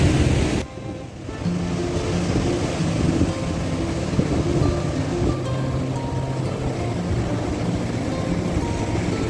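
Surf washing onto Querim beach in Goa, a steady broadband roar of waves with a brief dip near the start and a low engine-like hum underneath, no voices.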